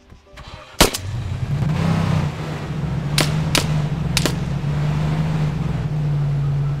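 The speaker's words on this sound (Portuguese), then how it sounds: "Continua atirando aí" Arma 3 gunfire: one sharp report, then three more spaced shots over a steady low engine-like drone, with no talk.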